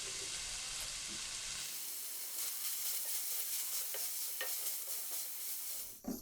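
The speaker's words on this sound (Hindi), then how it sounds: "चंद सेकंड के लिए मिर्चें वगैरह डाल के फ्राई कर ली है।" Chillies and spices frying in a pan of minced chicken give a loud, continuous sizzle with stirring scrapes throughout, close up and with no talking.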